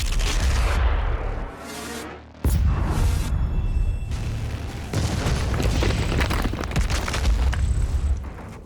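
A launch blast in a Doom Eternal cutscene, a loud sustained roar that breaks off briefly and then surges back, with continuous rumbling and crackle under it.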